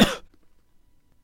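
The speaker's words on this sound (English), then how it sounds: "use trimming to remove this cough from the recording" A single sharp cough opens the recording, loud and close, then fades into near silence for the remaining second.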